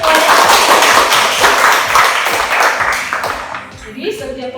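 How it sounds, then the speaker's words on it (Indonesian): Classroom applause for a student group that has just finished presenting, dense, loud clapping from many hands that carries on steadily and then thins out toward the end. "aplaus untuk kelompok yang sudah tampil"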